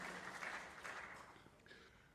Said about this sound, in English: could you join me in giving these incredible women a round of applause